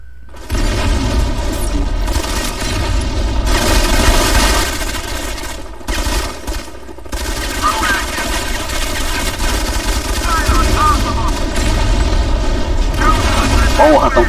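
Relentless grenade explosions and heavy gunfire in a first-person shooter video game, a dense, loud barrage of booms rolling on without pause, with brief lulls and a voice talking over it.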